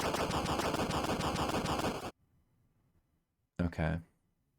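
Upward missiles launch in the video game Porgy from UFO 50: a dense, rapid string of chiptune firing blips for about two seconds, then near silence, then a short second burst.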